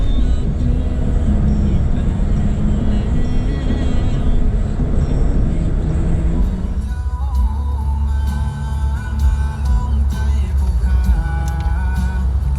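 A bus on a deserted country road along the Thai border keeps up a loud, continuous engine rumble and road noise, with rattles and a shift in engine tone about halfway through.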